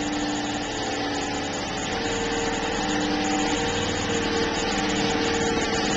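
An engine running a MicroSquirt setup with a MAF sensor holds a steady, droning whine with a high mechanical tone, rising slightly in loudness as it spools up, alone with no talk.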